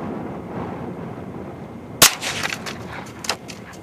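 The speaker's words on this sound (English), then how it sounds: "We're going to take a crack at it with a Ruger American rifle. 22 long rifle chambering and CCI Stinger bullet." A single sharp .22 LR report from a Ruger American rifle firing a CCI Stinger round at a bottle on a rainy outdoor range, standing out from steady rain hiss, followed by a few fainter impacts or splashes.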